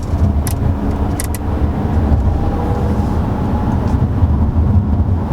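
A 2022 Toyota Camry XSE V6 in Windchill Pearl pulling away and cruising, its smooth, quiet engine and road noise forming a steady low rumble heard from inside the cabin, with a few brief faint clicks.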